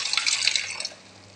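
A small amount of water poured into arrabbiata sauce in a pan, a close, bright splashing trickle for about a second that cuts off and leaves a quiet background.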